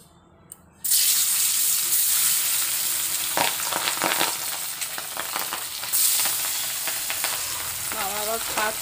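Pieces of boal fish hit hot oil in a pan and burst into a loud, steady sizzle that fills the clip, with a few clinks and stirring scrapes partway through and a brief voice near the end.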